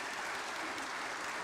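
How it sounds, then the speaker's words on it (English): Audience at the IndianOil R&D Golden Jubilee grand finale claps steadily for essay participants, a dense, even burst of many hands throughout. "So firstly, we can clap for all of them who have sent their essays."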